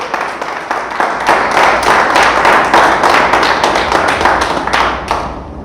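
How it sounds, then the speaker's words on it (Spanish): A church congregation claps together in a dense burst of applause, loud and close, sustained for several seconds before starting to fade near the end. "¿Le damos un aplauso a Dios?"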